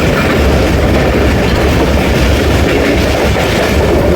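A train rolls loudly and steadily past Bakrala railway station, just after crossing a nine-arch bridge, with continuous rumbling and rhythmic clickety-clack of wheels on rail and no voices.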